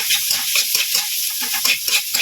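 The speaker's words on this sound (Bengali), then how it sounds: "এখন এর মধ্যে ডিমটা দেবো, ডিমটাকে ভেজে নেবো" An egg frying with onion and potato in a pan, crackling and sizzling up close, with irregular scraping stirs.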